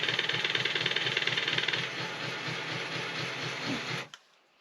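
A PIKO model railbus converted to radio control plays a diesel engine sound from a Soundtraxx Sierra sound board, a steady chugging idle with hiss that cuts off abruptly near the end.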